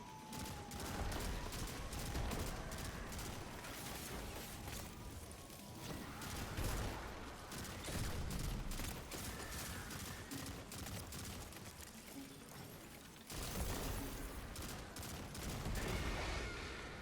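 Rapid gunfire from a pulse rifle and a hand cannon in Destiny 2, loud, dense bursts and booming reports running continuously with no pauses, alongside game effects and no voices.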